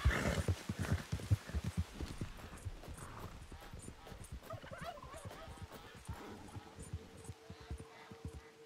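Horse hooves clip-clop in Red Dead Redemption 2, a quick, fairly loud rhythmic trot that is strongest at the start and grows softer and more scattered toward the end, with no talking.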